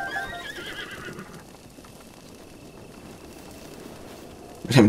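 A horse in The Legend of Zelda: Breath of the Wild lets out a whinny at the start, then the sound fades to a low background hum before a sudden loud thump of hooves or movement at the very end.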